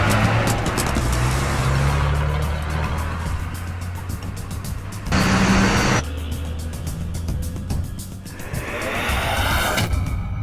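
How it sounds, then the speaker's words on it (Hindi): A car pulls away and drives on, its engine a steady loud rumble with road noise throughout, swelling briefly midway, in a chase scene where men plan to rob a moving lorry. "चला दे गाड़ी।"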